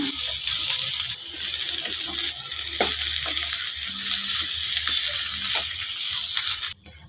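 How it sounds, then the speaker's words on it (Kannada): Cut okra frying in oil in a pan, a steady close sizzle that holds evenly throughout with faint stirring clicks, then cuts off abruptly at the very end. "ಚೆನ್ನಾಗೆ ಅದನ್ನ ಚೆನ್ನಾಗೆ ಫ್ರೈ ಮಾಡ್ಕೊಂಬಿಡೋಣ"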